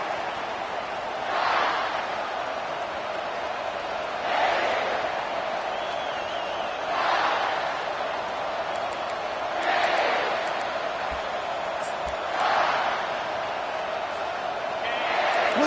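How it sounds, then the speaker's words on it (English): A college football stadium crowd at a South Carolina versus Auburn game roars steadily, its broad wash of noise swelling and easing in regular waves, with voices likely talking over it. "Listen to the crowd energy here in the early going."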